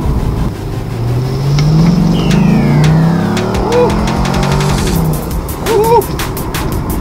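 Corvette engine accelerating while driving, heard from inside the car as a loud, rising drone with gear changes under the road and cabin noise, and a passenger briefly cheering.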